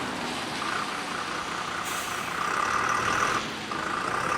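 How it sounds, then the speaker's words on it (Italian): A diesel city bus works slowly through a tight curve in several maneuvers, its engine rumbling steadily close by while a brief hiss of air brakes cuts in midway. "Questo mezzo, che si è trovato a dover dunque effettuare più di una manovra, come si vede, in realtà non è elettrico ma a gasolio."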